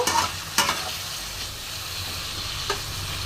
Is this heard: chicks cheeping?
no